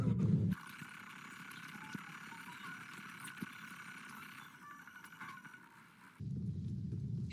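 A horse ridden in Assassin's Creed Odyssey, its hooves clip-clopping faintly at a steady pace under a low rumble, with louder bursts at the start and end.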